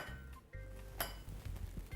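A saucepan clinks once with a bright metallic knock while butter is added, followed by soft kitchen clatter in a quiet room.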